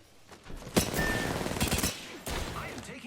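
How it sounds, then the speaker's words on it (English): Rapid bursts of automatic gunfire crackle in a battle royale style shooter game, loud and close, with several volleys separated by short gaps. "I am taking fire."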